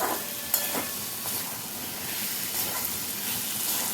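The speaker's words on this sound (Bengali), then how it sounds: "নুনটা দিয়ে খুব ভালো করে কষিয়ে নিচ্ছি" Pieces of gathi kochu taro are sautéed in oil with salt and spices, giving a steady close sizzle broken by a few soft scraping stirs.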